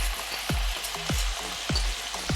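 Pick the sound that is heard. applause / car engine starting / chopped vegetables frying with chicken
chopped vegetables frying with chicken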